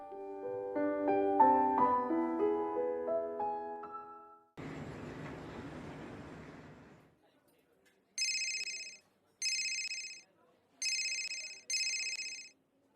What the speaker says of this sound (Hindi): मैं तुम्हारे नंबर पे मिस कॉल कर देता हूँ